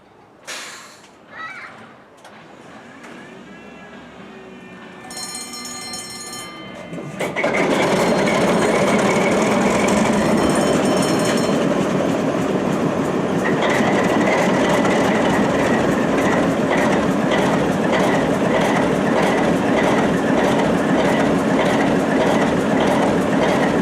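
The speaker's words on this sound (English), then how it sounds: "including the last surviving Canadian Pacific RS3, number 8427" A Canadian Pacific RS3 diesel locomotive, built in 1954 by the Montreal Locomotive Works, rumbles loudly and steadily with its train after a quieter opening, clattering wheels and engine drone filling the rest without a break.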